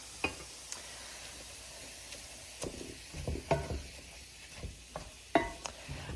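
Ground beef for a Mexican dish frying in a pan, a soft steady sizzle broken by irregular scraping and clicking stirring strokes, fairly quiet and close, with no talking.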